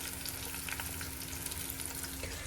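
Tomatoes and garlic for a chutney fry quietly in a pan, giving a soft, even sizzle throughout with a faint steady hum beneath and no speech.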